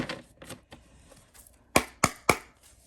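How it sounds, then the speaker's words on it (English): Tarot cards shuffled by hand: a few soft riffling taps, then three sharp, close slaps of the deck in quick succession, with no talking. "one more shuffle here"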